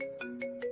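A phone ringtone sounds for an unanswered call in three quick repeating tonal pulses, clear and moderately quiet with no voices.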